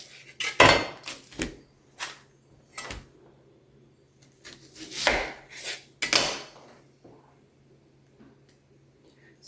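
An onion is cut with a knife on a cutting board in a home kitchen, several sharp separate chopping knocks coming in small clusters with quiet gaps between, close and fairly clear, with no talking.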